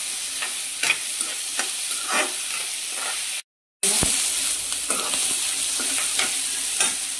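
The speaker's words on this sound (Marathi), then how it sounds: "याला नाही जास्त शिजायला पाहिजे, त्याला जरा परतायचं आणि पाणी टाकायचं" Chopped onion and bell pepper sauté in a hot pan for a veg Manchurian gravy, giving a steady close sizzle with repeated scraping stirs and a brief silent gap midway.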